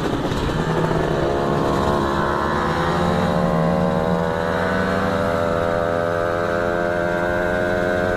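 A 2011 Ninja SS motorcycle engine revs up in one continuous, rising whine, close and loud for about eight seconds, alone and with no talk over it.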